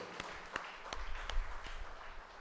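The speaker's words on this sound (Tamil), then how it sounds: "கைத்தட்டி ஆண்டவருக்கு நன்றி சொல்வோம்." A church congregation clapping their hands together, a short burst of scattered, uneven claps at a moderate distance.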